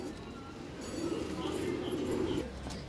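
A kaldum kalpara pigeon, a male with colored feathers on one side and white on the other, coos in a low, steady murmur that swells through the middle of the moment, close by, amid faint background voices.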